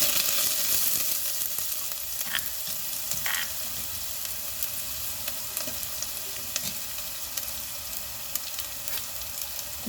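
Crushed ginger and garlic fry in hot oil for a fish head curry, a steady close sizzle with occasional soft stirring clinks and pops.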